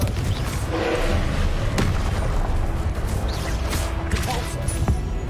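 Blasting spell explosions in Hogwarts Legacy, a continuous loud rumble of booms and crashing bursts with a few sharper impacts, and no speech.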